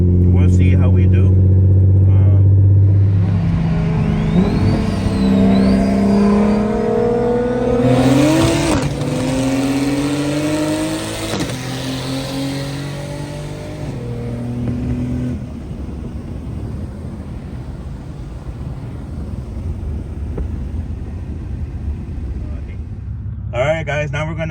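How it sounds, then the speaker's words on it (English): Single-turbo BMW M240 accelerates hard while racing a single-turbo top-mount Supra, its engine note climbing through rising gear pulls from inside the car before settling into a steadier roar; a voice talks partway through. "I'm gonna go race this single turbo top mount Supra and 240."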